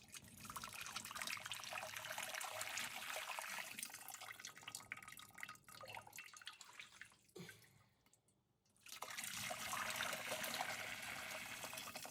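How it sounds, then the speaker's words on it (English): Ham stock pours and trickles steadily through a cheesecloth-lined fine mesh sieve, a continuous close watery rush that briefly thins and nearly stops before resuming at full flow. "layer a fine mesh sieve with this cheesecloth just to help strain the liquid a little bit more"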